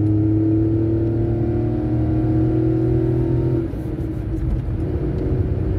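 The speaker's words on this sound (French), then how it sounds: "Accélération, écoute." A Skoda Fabia 1.2L 12V chain-driven engine with 167,770 km accelerates, a steady rising drone heard from inside, then easing into a lower rumble after a gear change.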